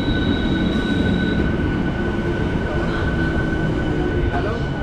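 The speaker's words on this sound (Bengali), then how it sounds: "ট্রেন ঢুকে গেছে, চলুন ট্রেনে ওঠা যাক।" A train arriving at Narayan Pakuria Murail station in rural West Bengal, a steady loud rumble with faint tonal squeal from the wheels, continuous and close throughout.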